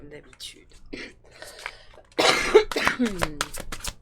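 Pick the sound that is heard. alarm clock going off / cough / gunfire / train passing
cough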